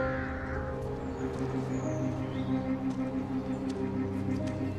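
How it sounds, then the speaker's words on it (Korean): Crows cawing from a flock gathered where animal carcasses lie, mid-distance calls rising over a steady broad background hum and rumble, with no speech. "까마귀 떼가 머무는 곳을 따라가 동물의 사체를 챙기기 시작하는 루카스"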